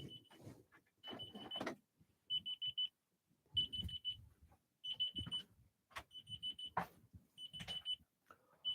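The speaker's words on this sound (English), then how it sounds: "That fucking alarm that goes off at this time every night." Repeating electronic alarm hidden somewhere inside a house at night, sounding in steady bursts of high beeping tones with brief gaps, close and fairly loud.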